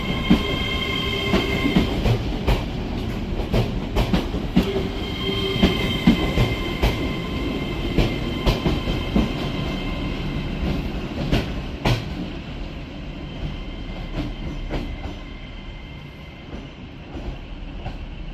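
A British Rail Class 802 train running from Manchester Airport to Edinburgh passes at a station, a loud continuous rumble of wheels with rhythmic rail clatter, steady throughout and easing slightly toward the end.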